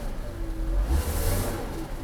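A Mercedes W126 300SEL engine runs steadily with a badly broken exhaust, holed in the middle section and with a cracked rear muffler, giving a close, continuous low rumble with a gentle rise in revs.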